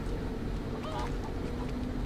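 Chicken in Resident Evil 4 giving a few short, nasal clucking calls over a steady game ambience, fairly quiet and brief.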